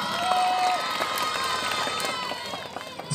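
Crowd in a volleyball arena claps and cheers to welcome a team onto the court, a steady busy wash of applause with scattered shouts, a whistle-like tone near the start.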